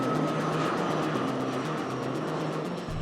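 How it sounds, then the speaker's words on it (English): A jet lifts off and flies away into the night, heard as a steady, loud engine roar with a broad rushing wash that holds throughout and eases slightly near the end, with no voices. "And so the jet lifts off and flies away into the night."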